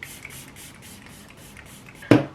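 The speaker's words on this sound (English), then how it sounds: "this setting spray is so good" A setting spray mist bottle lets out one short, sharp spritz near the end, following a quiet stretch of faint background hiss.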